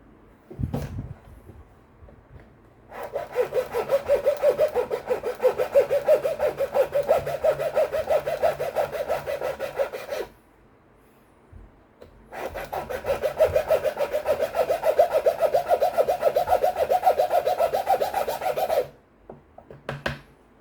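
A metal file rasping down a tension pulley part from an HP PageWide printer, two long runs of rapid back-and-forth rough scraping strokes separated by a short pause, close and fairly loud, with a few handling knocks at the start and end.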